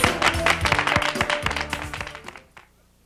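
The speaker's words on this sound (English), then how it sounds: "give yourself a round of applause" An exercise class gives itself a round of applause: a dense burst of clapping that keeps up for about two and a half seconds, then fades out, with a faint steady tone underneath.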